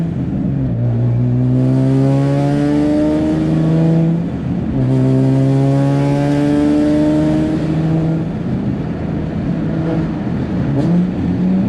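A single turbo Nissan 350Z HR accelerates hard through repeated gear pulls, its engine note rising steeply, dropping at each shift and climbing again, loud and close throughout with no talking.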